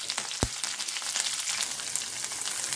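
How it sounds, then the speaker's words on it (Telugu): Pieces of nalleru (adamant creeper) stem with their leaves sizzle steadily in hot oil, a dense, close crackling hiss with one sharp pop early on. "ఈ నల్లేరుగడ్డ ముక్కల్ని ఈ నూనెలో వేసి ఆకులతో సహా వేసేస్తున్నాను"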